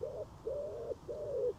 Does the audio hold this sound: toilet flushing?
no